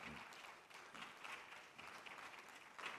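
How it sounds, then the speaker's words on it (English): Faint, distant audience applause at a formal Afreximbank 2023 event, a steady wash of many hands clapping for a few seconds, low in level with no clear speech. "maybe some applause."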